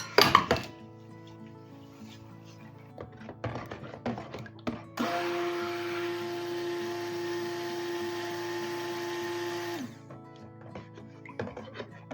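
Electric blender whirring steadily for about five seconds as honey fragrance oil is mixed into soap batter, with clinks and knocks of utensils and containers before and after, close and fairly loud.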